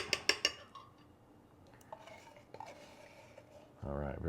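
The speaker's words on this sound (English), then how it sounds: "So once we get that in there, we're going to mix it" Pudding cake batter with sweetened condensed milk is stirred in a bowl, starting with a few sharp clinks of a utensil against the dish and then quieter scraping. A louder burst of mixing arrives near the end.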